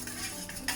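A spoon stirs jelly into hot water in a bowl, giving a short run of soft swishing and light scraping with a small clink near the end.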